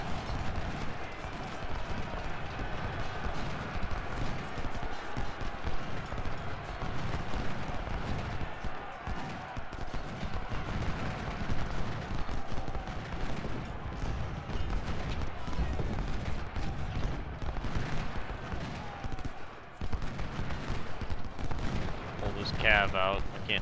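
Continuous battle din of artillery and musket gunfire from a Civil War strategy game at Newport News, a dense rumbling wash of shots and booms running steadily throughout without clear pauses.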